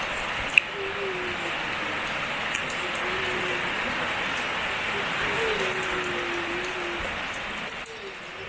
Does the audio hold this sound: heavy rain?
yes